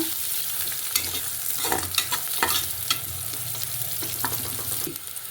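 Chopped onions frying in ghee while being stirred, with a steady sizzle broken by repeated scraping strokes of the spoon at an irregular rhythm, close and moderately loud.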